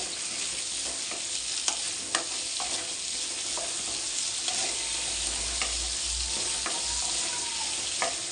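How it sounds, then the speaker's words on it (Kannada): Ingredients with curry leaves fry in a pan, giving a steady, close sizzle broken by scattered light scraping and stirring clicks, with no talk. "ಚೆನ್ನಾಗಿ ಫ್ರೈ ಮಾಡ್ಕೋಬೇಕು ಇದೆಲ್ಲ"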